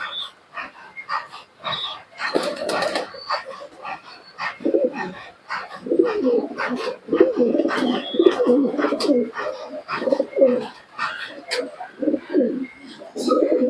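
Male Rampuri teddy pigeons and Giribaz pigeons in Murshidabad during the rainy season coo in repeated low, throaty bursts close by. Several birds overlap in a busy, continuous chorus with no talking.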